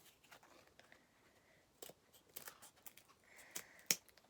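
Wooden coffee stirrers are snipped to a point for a model ship deck, a few sharp, quiet cuts heard close up against near silence, one crisp snip louder than the rest.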